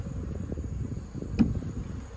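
Robber bees hover around a hive in a steady low, fluttering buzz close by, interrupted once by a brief sharp tap midway.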